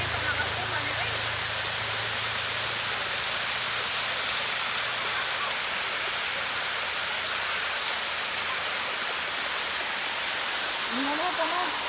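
A waterfall pours as a constant broadband rush of flowing water that stays loud and even throughout, with a faint voice briefly audible near the end.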